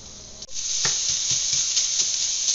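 Bacon sizzles steadily in a pan as the fat renders for a bacon and beef chili, a close, even crackling hiss with a brief dip near the start and soft stirring scrapes.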